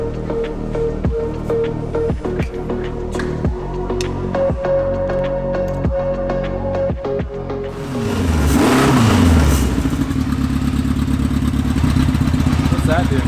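A drift car powered by a streetbike engine idles with a rapid, regular pulse, then revs hard into a loud, sustained roar that holds to the end; there is no talking.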